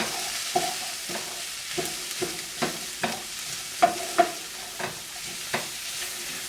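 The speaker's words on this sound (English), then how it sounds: "And I'm going to add chili powder, paprika, and the cumin, and we're going to stir that up." Chili powder, paprika and cumin stirred in a hot pan, a soft steady sizzle broken by regular scraping strokes of a utensil, about a dozen light taps and scrapes close by.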